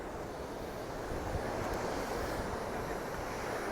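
Atlantic Ocean surf on the edge of Ericeira, Portugal, heard as a steady, broad wash of waves with wind buffeting the microphone, continuous and fairly loud with no voices.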